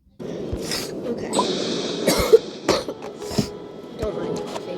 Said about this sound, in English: Don't mind coughing.